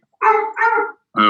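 A dog barks close by, two quick barks and then a third after a short pause, with no one talking over it.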